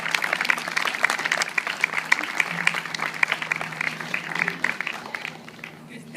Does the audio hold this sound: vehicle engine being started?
no